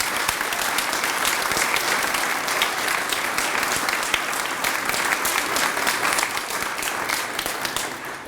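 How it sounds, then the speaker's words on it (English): Loud, sustained applause from an audience at a health center ribbon-cutting ceremony, dense even clapping holding steady throughout and easing slightly at the very end. "And we should applaud that"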